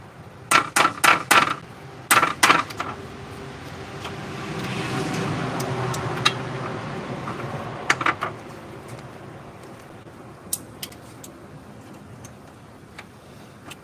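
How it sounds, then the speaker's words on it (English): Road traffic passes by outside, a vehicle swelling and fading in the middle, framed by sharp knocking clicks at the start and end. "That's all the traffic that goes by here."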